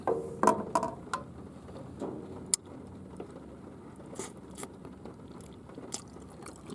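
Someone eats rice, beans and fried chicken over a pot, with close, irregular crunching bites and chewing, plus a few sharp clicks and scrapes against quiet background.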